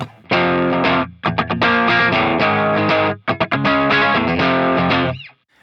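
Loud distorted electric guitar chord with an added note, strummed in bursts with short gaps, ringing out at the end.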